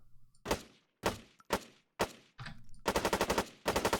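A gun in an Arma video game mod fires several spaced single shots, then switches to rapid full-auto bursts, each report sharp and loud with a short decaying tail, no talking over it.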